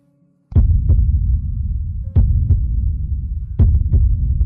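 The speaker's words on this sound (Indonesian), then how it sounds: "Detak jantung." Slow, heavy heartbeat thumps pulse in a steady rhythm over a low hum, set in a hospital scene, loud and close, following a brief near-silent start.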